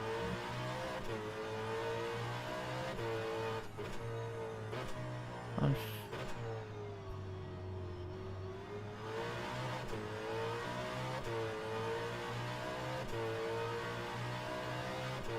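A V8 Supercar engine in a racing sim at Bathurst holds a steady high drone as it climbs through the gears down the straight, with pitch sweeping up and dropping at each shift and a brief sharp blip midway.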